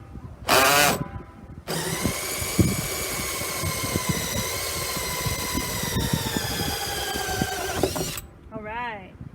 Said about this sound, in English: I'm going to go ahead and put the drill bit right here in the middle, and then just drill my hole.